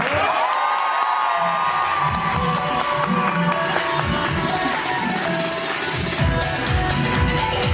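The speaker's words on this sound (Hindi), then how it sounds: "तो सर के लिए तालियां बहुत है।" An audience at a training session in Haridwar bursts into sustained cheering and whoops, with a steady crowd roar and scattered claps filling the whole stretch at close, loud level.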